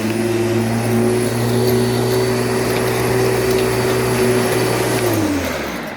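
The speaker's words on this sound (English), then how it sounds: "Can you believe I actually got a lawnmower with Freddy's allowance money?" A lawn mower engine runs at a loud, steady drone with a constant tonal hum, close by, then winds down near the end; no talk over it.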